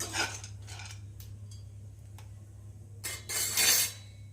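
Spiced peanuts roasting in a pan, heard as faint intermittent scraping and rattling of nuts against the metal over a low steady hum, with a louder stirring burst near the end.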